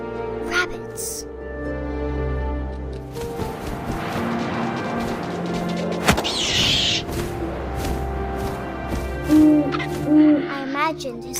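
An owl hoots in the video game What Remains of Edith Finch, with a few soft calls rising over a steady bed of wind and game music while a narrator talks throughout.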